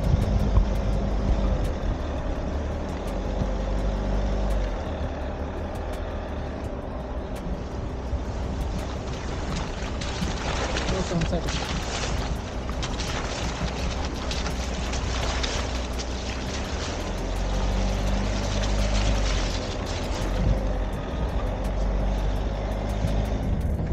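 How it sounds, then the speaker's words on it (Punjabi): A vehicle grinds slowly up an icy, snow-covered mountain road near 13,000 feet on the way to Chanshal Pass, held in first gear. The engine gives a continuous low labouring drone throughout, with rushing wind and road noise rising in the middle. "ਕਿ ਪਹਿਲੇ ਗੇਅਰ ਤੋਂ ਉੱਪਰ ਨਹੀਂ ਜਾ ਰਹੀ, ਦੂਜਾ ਗੇਅਰ ਨਹੀਂ ਲੈ ਰਹੀ"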